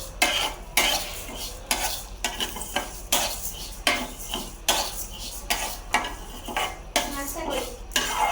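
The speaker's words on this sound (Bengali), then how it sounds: "তাই ভেজে নিতেছি।" Fish head frying in a pan for a Bangladeshi lentil dish, with rhythmic metal utensil scrapes and clatters against the pan over a light sizzle, close and repeated about once per second.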